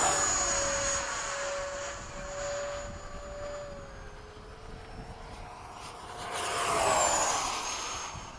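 An F-5 jet makes a high-speed pass from the right at Bayside, a faint, far jet roar with a thin whine that fades, then swells again near the end.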